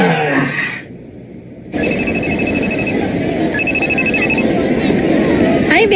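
A telephone rings in two bursts of rapid, bright electronic trilling over a busy room, with voices talking before and during the rings.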